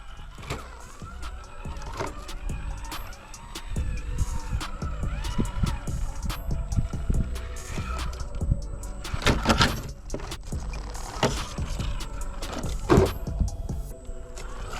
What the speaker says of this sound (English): I'm gonna have to reverse with this rig. It's got a smooth reverse to it.